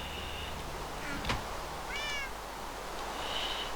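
A cat in Minecraft's Direwolf20 modpack gives a few short meows, soft and spaced apart, over a quiet constant background hum with no talking.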